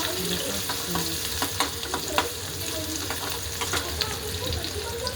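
Onion and curry leaves frying in a pan for a cauliflower and potato dish, a steady dense sizzle with scattered sharp crackles and pops throughout, close and continuous.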